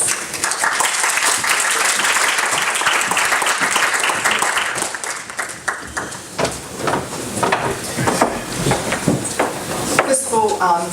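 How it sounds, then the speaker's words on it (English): Audience applause at an academic Japanese studies association event, a dense burst of clapping that fills the room and then thins into scattered, more distinct claps toward the end. "Please give a warm round of applause."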